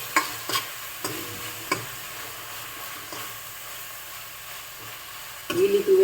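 Red chilli powder, cumin and salt being stirred in a pan while a green pigeon pea gravy dish cooks: a soft sizzle under a few scraping stir strokes, with a louder clatter at the very end.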